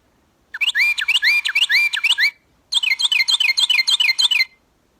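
A Carolina wren's song, played as a bird-call example: two loud, close bursts of rapid, ringing repeated whistled phrases, separated by a short pause, with no talking.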